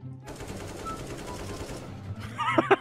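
AK rifle fire in a video game rattles out as a rapid automatic burst, steady and fairly loud for a couple of seconds before breaking off, with a voice speaking near the end.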